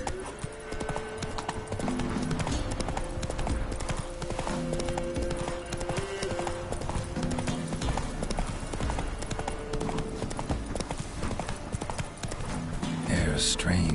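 Geralt's horse galloping in the video game The Witcher 3, a fast rhythmic clip-clop of hooves under game music and some voices, steady and fairly loud throughout.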